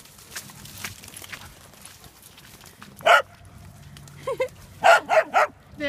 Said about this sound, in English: Very happy dogs today.